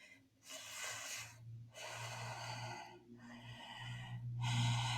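Cooling pranayama breaths are drawn in through the curled tongue in a prenatal yoga session, heard as three long, close hissing inhalations separated by brief pauses.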